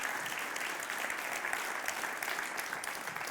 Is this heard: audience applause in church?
yes